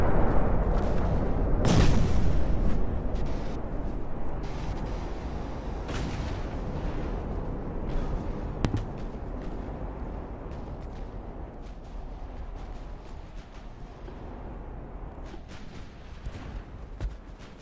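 Warship guns fire in the naval battle game Ultimate Admiral: Dreadnoughts, with a heavy boom early on and scattered distant thuds and cracks over a constant low rumble of engine and sea noise.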